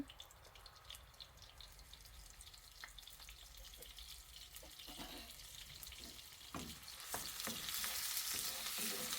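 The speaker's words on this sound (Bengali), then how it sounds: "এখানে আমি আলুর তরকারিটা রান্না করব এজন্য জন্য পেঁয়াজ বাটা দিয়ে দিলাম সব মশলাই দেব পেঁয়াজ রসুন বাটা" Onion and garlic paste frying for a potato curry, a steady close sizzle with scraping stir clicks that grows louder and brighter toward the end, no talking.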